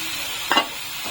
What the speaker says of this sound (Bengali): এখন আমি এর ভিতরে 1 চামচের মতন ঘি দিয়ে ভালো করে মিশিয়ে নামিয়ে নেব।